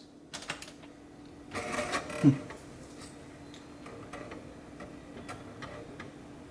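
A modern gaming PC built into a 2007 case with added fans powers on: a few sharp clicks, then a brief whirring surge as the fans spin up, settling into a quiet, steady low hum.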